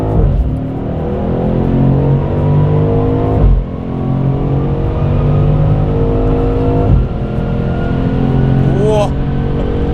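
A BMW M850i xDrive Gran Coupe in Sport Plus mode accelerates hard with its engine revving loudly and climbing in pitch, dropping briefly at two gear shifts before pulling again, heard from inside the car.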